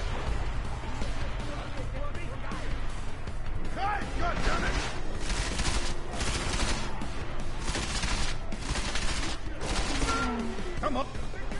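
Gunfire in Deus Ex: Mankind Divided crackles in bursts and scattered shots over a busy game mix, with someone talking over much of it.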